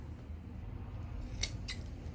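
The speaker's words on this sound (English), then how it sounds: "I think I need some new sequin cutting scissors." Dull scissors snip through sequin fabric for a vintage tee sleeve, giving one or two short crisp cuts over a quiet room background.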